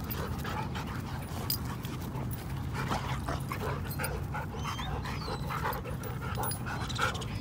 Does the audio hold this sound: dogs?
yes